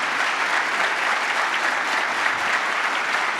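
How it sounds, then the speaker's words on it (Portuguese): Steady, dense applause from a church congregation during an evangelical prosperity service, a continuous wash of many hands clapping at even loudness throughout, with no voices over it. "Se é para o Senhor, aplaude mais forte em nome de Jesus"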